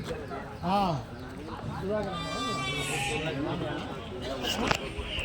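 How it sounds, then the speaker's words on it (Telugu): A flock of sheep bleats at a Tuesday sheep market in Kadiri, several wavering bleats near and farther off, mixed with busy crowd voices and people talking close by. "రెండు వేల గొర్రెలు ఉన్నాయంటాడు"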